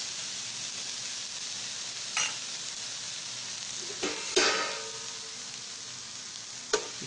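Dosa frying on a hot pan over a very high flame, a steady loud sizzle throughout with a few brief scraping clicks on top, no voices.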